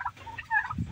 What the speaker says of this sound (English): Right there's a nice little miniature rooster.